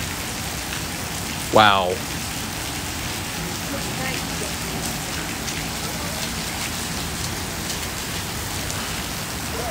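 Heavy rain falls in Seattle, a loud, constant hiss of drops hitting the ground and nearby surfaces. Early on, a voice gives a short, rising exclamation over the downpour.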